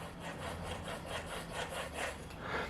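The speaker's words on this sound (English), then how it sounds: "those bearings rub quite a bit" A steady, gritty rubbing scrape repeats in rhythmic strokes, close and moderately loud, from rubbing bearings in a combat robot's weapon, metal parts grinding against each other.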